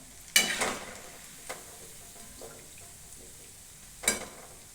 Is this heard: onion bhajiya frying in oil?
yes